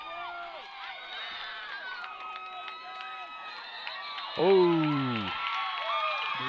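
Spectators at a high school football game between Kanab and Duchesne cheer for the Eagles, a rising wash of crowd noise with shouts and whistles under a commentator's voice, swelling sharply near the end.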